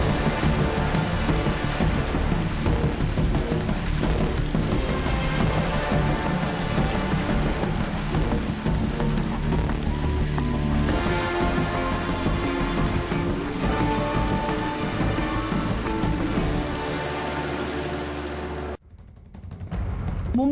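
A heavy Mumbai downpour makes a thick, steady roar mixed with a faint background music bed, holding at a constant level before cutting out abruptly just before the end.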